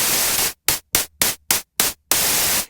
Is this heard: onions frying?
no